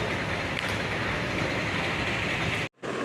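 A train pulling into Porbandar railway station in the early morning, giving a continuous loud rumble and roar of rolling stock close by that cuts off abruptly near the end.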